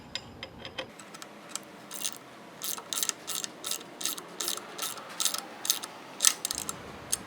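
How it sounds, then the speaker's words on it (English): A nylock nut being tightened with two 3/4-inch wrenches on a Tsunami 3x79 upgrade kit wheel, a rapid run of close, crisp ratcheting clicks in quick bursts. "we're going to take that nylock and lock that into place on the outside using 2 3/4-inch wrenches"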